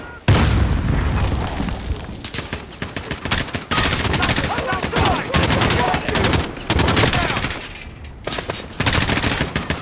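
Heavy firefight in the Modern Warfare campaign: loud grenade blasts and continuous automatic gunfire, with bursts and booms crowding one after another, briefly dipping twice before resuming at full intensity.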